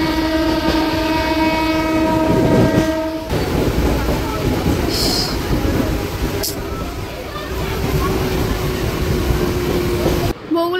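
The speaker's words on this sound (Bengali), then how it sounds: "ট্রেন বগুড়ায় ঢুকছে আর" A train pulls into Bogura station during heavy rain, with loud rumbling wheels, clattering carriages and a long sustained horn blast near the start, the rolling noise continuing steadily.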